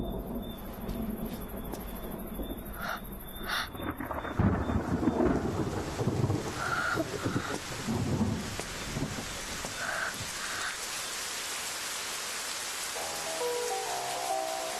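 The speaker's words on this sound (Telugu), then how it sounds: "వర్షం పడింది, వర్షం కూడా పడుద్ది." Steady rain with rumbling thunder from a storm, a continuous wash of rainfall broken by deep low rolls and a few brighter cracks, with faint cricket-like chirps near the end and no voices.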